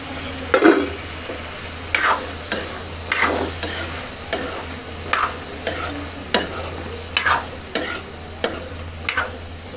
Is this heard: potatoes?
yes